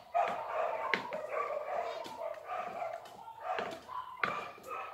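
Dogs bark repeatedly at a moderate distance in quick, overlapping bursts, fairly faint and with short pauses between the volleys.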